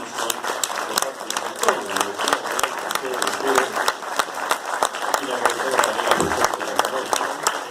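An audience applauds at a cultural foundation's essay award ceremony as a distinction is presented, sustained, loud, close clapping with distinct individual claps, while voices murmur underneath.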